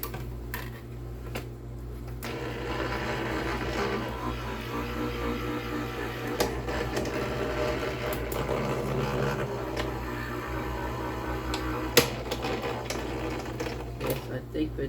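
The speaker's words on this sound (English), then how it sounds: "I think we're done with the SIZZIX machine" A Sizzix die-cutting machine runs steadily as it cuts paper shapes, a low mechanical hum with faint rhythmic ticking and a few sharp clicks. It sits at moderate level in a quiet room.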